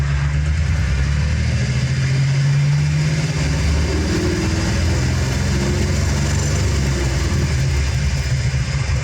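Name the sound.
car engine idling with knocking noise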